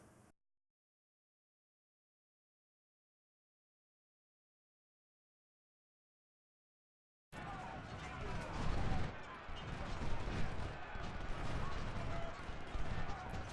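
Musket volleys and artillery fire from the Ultimate General: Civil War battle game start abruptly after a long silence, then run as a dense, continuous crackling roar of gunfire with deep booms.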